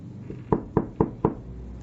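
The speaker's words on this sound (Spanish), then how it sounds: "El sonido de unos golpes se escuchó antes de que se abriera la puerta" Four evenly spaced knocks strike a door, crisp and close, in a quick steady rhythm with near silence before and after.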